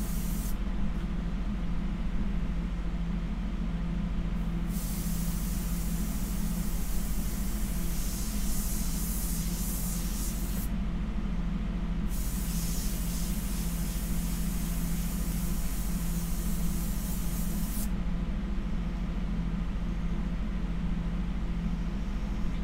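An airbrush sprays India ink onto paper in long continuous hissing passes that start and stop, steady and close, over a constant compressor-like drone.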